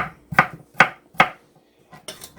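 A knife cuts potatoes in half on a board, making four sharp, evenly spaced chops followed by a couple of lighter taps, close and clear in a quiet room.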